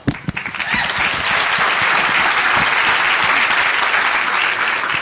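Conference audience at a military influencer event's main stage breaks into loud, sustained applause that rises quickly after a few scattered claps and holds steady, dense and even, with no speech over it.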